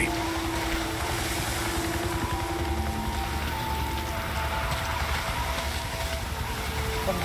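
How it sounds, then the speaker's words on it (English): Steady rain hisses over everything in the Days Gone video game, a dense constant wash with a faint low tone and no break, and no voices. "Seems like it's always raining."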